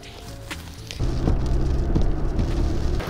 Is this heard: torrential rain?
yes